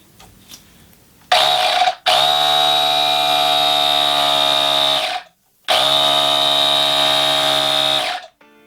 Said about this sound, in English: This battery powered cordless compressor.